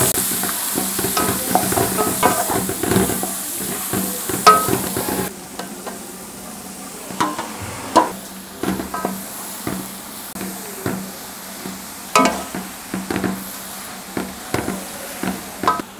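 Cabbage stir-fried in a pan with mango and boiled moong dal gives a soft frying hiss under frequent sharp spatula clacks and scrapes, irregular and close, with no talking.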